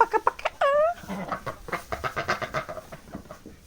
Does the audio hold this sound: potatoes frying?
no